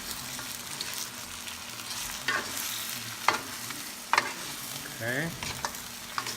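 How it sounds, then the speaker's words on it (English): Pata tim, braised pork hock, is stirred in a cooking pot over a quiet sizzle, with several scraping clatters of the utensil against the pot; a voice speaks briefly. "Then I'm gonna stir this a little bit."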